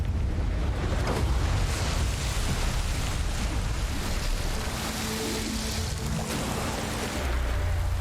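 Wind gusts across the open sea in God of War Ragnarök, a broad, blustery rush over a deep rumble of water and surf, swelling and easing continuously with no other sounds.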